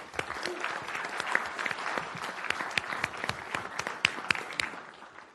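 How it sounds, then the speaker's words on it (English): Brief round of applause from a modest audience at a city council meeting, scattered individual claps sounding distinctly in a room, moderately quiet with some murmuring voices. "If we can give them a round of applause."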